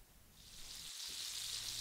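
Duck breast sears skin-side in a frying pan while being basted with fat and flipped, a soft sizzle that builds into a brighter, louder hiss, with a faint clunk near the middle.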